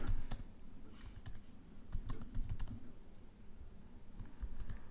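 Code is typed on a computer keyboard in quick irregular clusters of close, crisp key clicks with short pauses between them, and no talking.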